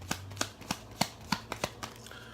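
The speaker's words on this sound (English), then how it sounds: "I'm going to begin shuffling these Gypsy Oracle cards" A deck of Gypsy Oracle cards is shuffled quietly up close: about nine crisp, papery taps and riffles in a brisk, slightly uneven rhythm.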